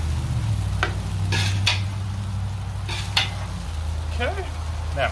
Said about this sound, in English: I put the pan back on the Blackstone griddle because I'm still cooking and browning the brown.